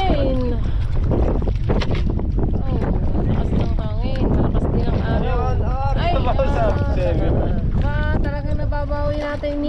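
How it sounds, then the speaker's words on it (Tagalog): Strong wind at sea buffets a small fishing boat, making a constant loud rushing roar over the microphone while people talk and shout over it. "Lakas ng hangin."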